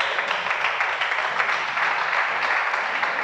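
Congregation applauding during a prophetic church sermon, a steady, moderately loud patter of many hands sustained evenly throughout, with no speech.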